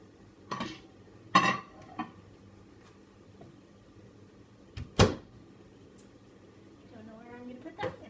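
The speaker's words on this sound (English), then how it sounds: "I'm going to empty the bag in the bowl." Chocolate from a bag is tipped into a microwave-safe bowl in a home kitchen, giving a few sharp clattering knocks and rattles spaced across the stretch with quiet gaps between, while a person talks.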